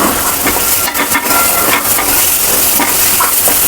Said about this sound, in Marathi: टमाट्याला चांगलं ठेचून घेऊया चांगलं शिजून असं ठेचून घेऊया